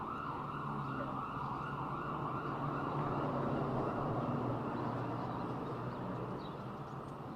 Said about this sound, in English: Let's wait for the siren to go down.